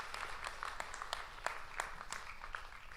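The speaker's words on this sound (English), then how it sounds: "yes, please clap." Scattered audience clapping at a welcome for world-premiere artworks, a thin patter of separate claps from a modest crowd at moderate distance, fairly even throughout.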